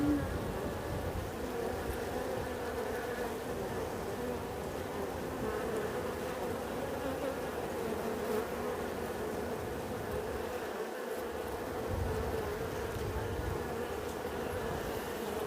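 Honey bees swarm and buzz around an open beehive, a dense, steady drone of many insects close by that runs unbroken throughout, with no talking.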